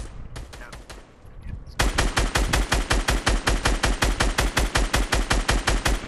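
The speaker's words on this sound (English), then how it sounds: "somebody just got sniped on the left" Rapid, evenly spaced gunfire in Fortnite, a long run of loud close shots beginning after a quieter opening with a few scattered shots, more like a burst of automatic fire than a single sniper rifle crack.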